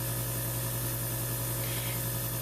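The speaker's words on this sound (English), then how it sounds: "I'm spraying it into the airbrush cleaning pot" An airbrush sprays black primer into a Minotaur cleaning pot, making a continuous, even hiss close up with a steady low hum beneath and no talk.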